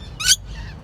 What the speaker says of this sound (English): What a beautiful green bird.